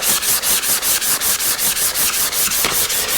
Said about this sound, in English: now we're going to sand diagonally here